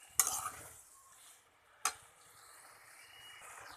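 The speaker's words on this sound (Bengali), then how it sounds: "এইভাবে ডাঁটা আলুকে আমি ধিমে আঁচে কষিয়ে নেব।" Drumsticks and potatoes sauté over a low flame, with a soft steady sizzle and two sharp scrapes of a spoon stirring against the pan, close and fairly quiet.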